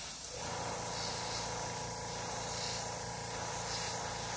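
Spray gun laying down a light coat of pearl lime green paint on a crankbait, a steady continuous airy hiss running close and unbroken throughout.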